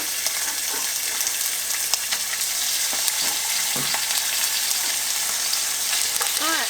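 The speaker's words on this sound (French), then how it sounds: "je la fais dorer dans un petit peu d'huile d'olive" Beef cubes browning in olive oil in a cast-iron pan give a steady, close sizzle and crackle throughout, with occasional clinks and scrapes as the pieces are stirred.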